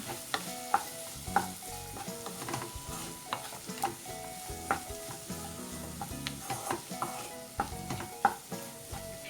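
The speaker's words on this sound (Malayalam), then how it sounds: "ഇനി ഇതിൻ്റെ പച്ചമണം മാറുന്നത് വരെ ഒന്ന് വഴറ്റി കൊടുക്കാം" Capsicum sautéing with Kashmiri chili powder in a pan for egg chilli, a steady sizzle under frequent sharp scrapes and clinks of a spoon stirring, close and moderately loud, with no talking.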